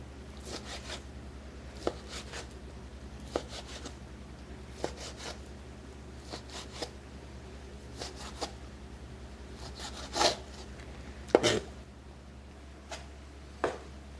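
A knife chops about half a pound of thick bacon strips into small pieces on a cutting board, giving sharp scattered taps and scrapes over a steady low hum with no talking.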